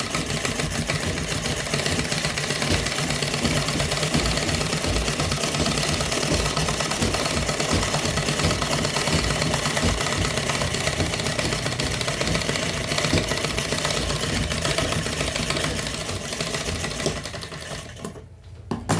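A sewing machine stitches fabric in a fast, even mechanical rattle that runs loud and close almost throughout, slowing and stopping near the end, with no talk.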